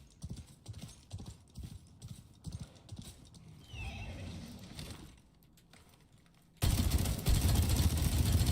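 A horse mount in the video game Highguard gallops with rhythmic clip-clop hoofbeats, lets out a clear neigh partway through, and the ride ends in a sudden loud rushing burst of in-game noise.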